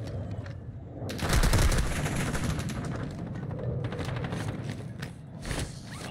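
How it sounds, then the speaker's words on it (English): Gunfire in a multiplayer shooter video game, with rapid bursts of automatic fire and a heavier blast, dense and continuous over a few seconds. "Someone else shooting at me."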